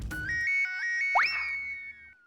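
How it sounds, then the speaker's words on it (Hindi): A phone ringtone plays a short electronic melody of bright, repeating tones, ending with a rising boing-like chirp that trails off. "कदम का फोन है।"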